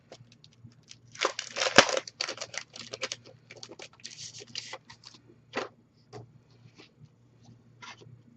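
Scissors cut out a die-cut paper hay card shape for a scrapbook layout, a close series of crisp, crunchy snips in uneven bursts that grow sparser toward the end.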